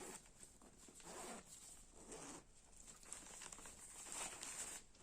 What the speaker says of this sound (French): c'est un sac à fermeture éclair